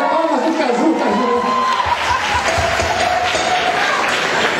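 Steady applause from a crowd, continuous clapping with some chatter mixed in, fairly loud and close throughout.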